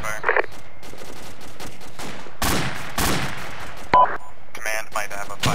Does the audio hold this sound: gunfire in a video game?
yes